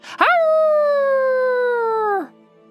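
A human voice imitates a wolf howl, a single theatrical, long sustained tone that rises sharply, holds steady for about two seconds, then cuts off, loud and close.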